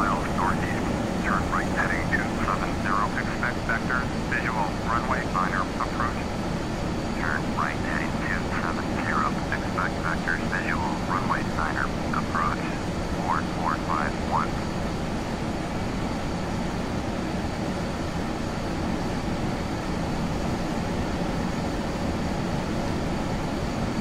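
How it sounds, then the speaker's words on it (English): Steady jet engine roar of an ERJ-145 airliner in a flight simulator game drones continuously throughout, with a series of faint chirping tones in the first half. "the engine sounds on this plane are pretty sweet, Isaiah."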